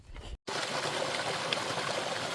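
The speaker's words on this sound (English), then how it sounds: "I just got some water in this lovely brook." A brook on the Appalachian Trail rushes and gurgles steadily close by, the flow cut by a brief dropout near the start, then continuing unbroken.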